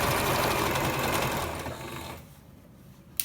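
Sewing machine stitching shorts fabric, a loud, fast, steady mechanical whir up close that slows and fades toward the end, ending in a small click.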